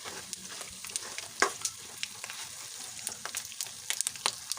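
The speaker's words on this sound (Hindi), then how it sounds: "इसको उलटते पुलटते करेंगे ताकि हमारा ये गोंद बहुत अच्छे से फ्राई हो जाए" Edible gum (gond) frying in desi ghee in a pan, a steady soft sizzle broken by scattered crackles and pops and the scrape of the gum being turned over, fairly quiet and close with no talking.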